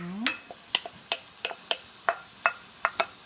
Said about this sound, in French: Tu fais cuire dans de l'huile d'arachide. Tu vas d'abord chauffer l'huile. Après, tu mets les ingrédients. Les oignons.